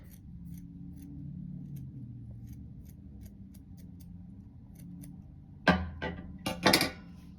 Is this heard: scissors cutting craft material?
yes